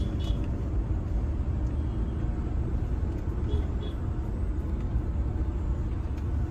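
A car drives on a road, heard from inside as a steady low rumble of engine and tyres, continuous and moderately quiet with no pauses.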